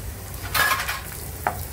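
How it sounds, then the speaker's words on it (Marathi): Ginger, green chillies and cumin seeds dry-roasting in a pan, a soft scrape and rustle of stirring with a brief sizzle, then a quick second scrape, quiet and close. "आता हे सगळं आपण एकत्र भाजून घेऊया।"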